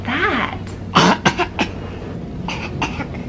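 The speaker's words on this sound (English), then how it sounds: "I think they're coughing." Babies cough behind a door at night: a few short, hoarse bursts in quick succession, then softer coughs, with a hushed adult voice at the start.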